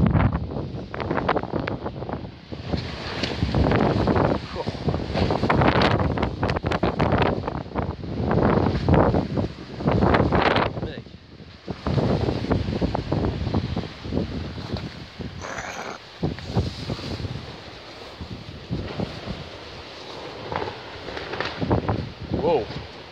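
High winds in Essex, UK roar and buffet the microphone in loud gusty surges across the whole stretch, rising and easing repeatedly, with someone speaking briefly among the blasts.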